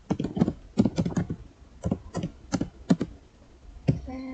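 Keys tapped on a computer keyboard while entering a Linux touch command on an NFS-mounted directory, in quick irregular bursts of clicks with short pauses, close and fairly clear, no talking.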